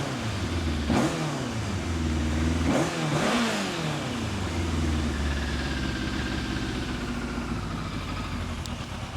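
A 1980s Yamaha FZ motorcycle with fire damage runs close by, its engine idling unevenly with a few sharp revs near the start before settling to a steady, rough drone.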